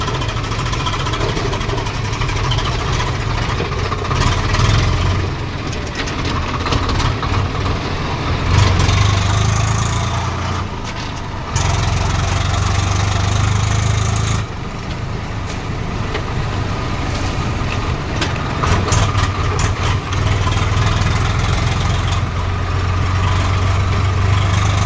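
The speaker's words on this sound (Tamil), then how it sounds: "வண்டி கிளம்பிடுச்சு." Heavy diesel engine of a JCB 3DX backhoe loader or Swaraj 855 tractor running steadily after starting, a loud continuous low rumble with slight surges in level throughout, no talk.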